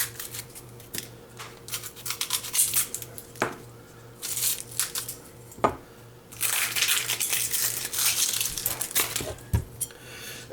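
A Cold Steel Bushman knife slicing an onion in half in a kitchen: a series of close, crisp crunching and snipping cuts scattered through the clip, with faint clatter and a low hum underneath.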